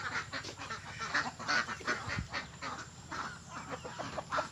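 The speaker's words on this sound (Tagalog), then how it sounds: "mag-update tayo sa ating mga itik or manok. Ayan sila oh." A crowd of poultry fills the air, with ducks quacking and honking and chickens clucking together in an overlapping, busy chorus at moderate distance.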